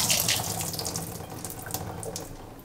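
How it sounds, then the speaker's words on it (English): Water pours and splashes out of a salad spinner after spinning washed greens, a steady close rush like a running tap that slowly eases off. "So now watch how much water comes out."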